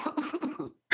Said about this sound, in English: More coughing.